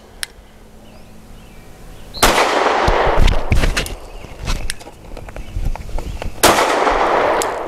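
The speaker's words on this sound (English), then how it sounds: "And even though I'm the one shooting, Tia's still getting the brass at her." Three loud, close pistol shots from an Arex Delta M OR Gen 2 using smoky ammunition at a shooting range, the first alone and two more following, each echoing with a long reverberant tail.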